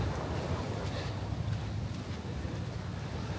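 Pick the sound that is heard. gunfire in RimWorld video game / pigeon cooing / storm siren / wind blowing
wind blowing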